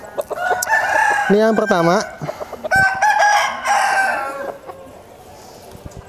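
Eight-month-old chickens of a Pama cross crow in a coop at a farm in Bogor, with several loud, close, drawn-out crows and some clucking while someone speaks over them.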